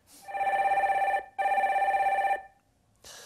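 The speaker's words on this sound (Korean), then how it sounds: "전화 연결해 주세요." A telephone rings as a call is put through on a Korean stock-market call-in broadcast, giving two long electronic trills split by a short gap, loud and clear, and a third ring starts at the end.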